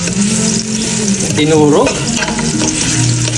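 Sliced onions frying in a pan for Filipino pork sinigang, a steady loud sizzle with stirring scrapes, and a brief voice speaking over it.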